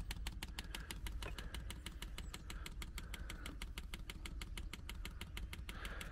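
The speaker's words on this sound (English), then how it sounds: "you can hear the pump kicking out now" A diesel heater's fuel pump ticks in a fast, steady, unbroken rhythm, close by, over a low continuous hum, with no talking.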